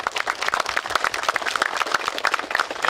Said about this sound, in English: How about a great big round of applause for them?